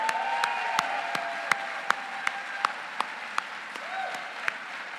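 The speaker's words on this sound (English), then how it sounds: "I think you deserve a big ass round of applause" Audience applause at a political rally fills the hall with steady, even clapping, with a few sharp, distinct claps standing out at intervals over the crowd.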